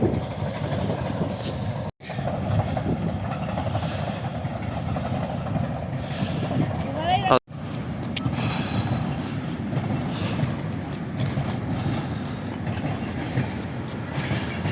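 An amusement park train rolls past with a steady rumbling, rattling drone of wheels and carriages, moderately loud, broken by two brief dropouts, with faint voices in the background.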